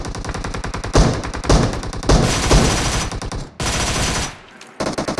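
Loud, close automatic gunfire in a video game rattles in rapid bursts, several separated by short gaps, as an enemy is knocked down.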